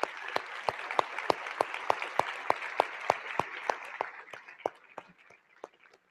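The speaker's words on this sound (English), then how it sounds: "Please join me in giving Chris another round of applause." Audience applause at a software conference general session, heard as a sparse run of distinct, evenly spaced claps that thins out and fades toward the end, fairly distant and quiet.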